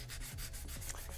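Steady, rhythmic scratchy rubbing of sandpaper worked back and forth by hand on a surface, close up and continuous.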